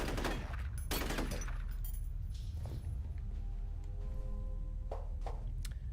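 Gunfire in the shooter game F.E.A.R., sharp shots and short bursts scattered irregularly over a constant background of game ambience and rumble.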